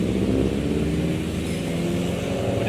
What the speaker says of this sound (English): We'll just wait for this really loud car to go by.